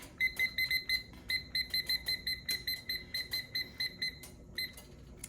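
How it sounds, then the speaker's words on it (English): A kitchen timer beeps in fast repeated bursts of shrill double tones, a rhythmic pattern of short pulses with a couple of brief pauses, clear and near with no talking. "Gonna get my timer set."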